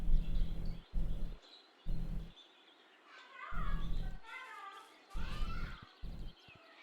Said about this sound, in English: I love the bird chatter.